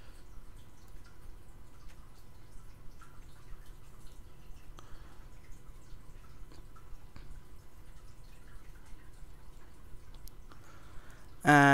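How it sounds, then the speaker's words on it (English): Water being placed in Minecraft, heard as faint, steady dripping and trickling that runs quietly through most of the stretch before a brief louder burst at the very end. "Now I'm gonna go put the water back and pick up the lava so the trap doesn't shut off anymore."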